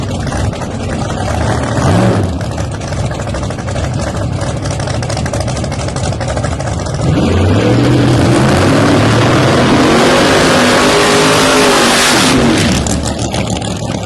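Pro Nitrous drag race cars roar down the strip, very loud and sustained, the engine pitch climbing as they accelerate, then a second surge of revving before it drops away.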